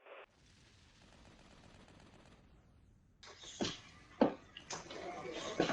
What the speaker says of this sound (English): Activating primary weapons